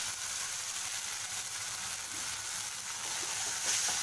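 Ground tomato puree sautés in hot oil in a pan, a steady, even sizzling hiss that holds at a moderate level throughout without any voices.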